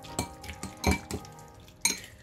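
Eggs are mixed in a bowl with a utensil, giving a few sharp knocks and clinks against the bowl spaced about half a second apart, close by with no talk.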